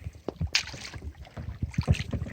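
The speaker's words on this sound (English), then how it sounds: "I'm letting Anna paddle for us" Kayak paddling on the Chestatee River in Georgia, with close paddle strokes dipping and splashing in an uneven rhythm, a sharp splash early on, and wind buffeting the microphone.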